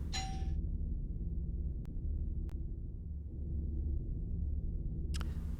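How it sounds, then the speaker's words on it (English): A doorbell chime sounds briefly at the start and again near the end. Between the two, a steady low hum and a couple of faint clicks fill the gap. "I heard the doorbell ring"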